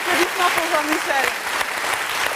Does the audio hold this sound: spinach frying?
no